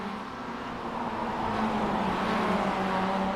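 Mazda MX-5 race cars of the SP3 class lapping the track in a sim racing game of the VLN endurance series, a steady droning engine whine holding at an even level with no talk over it.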